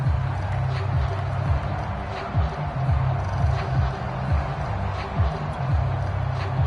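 Stadium crowd noise at an American football game, a steady roar that swells and dips, with low announcer-like tones running beneath it.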